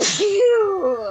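A single sharp sneeze bursts out close to the microphone, then trails into a voiced, sighing exhale.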